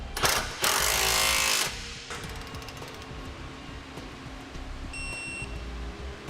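An impact tool fires one loud, close burst of about a second while driving hex bolts on a CURT Class III custom-fit trailer hitch receiver under a 2018 Mitsubishi, then a quieter mechanical hum follows with a short electronic beep.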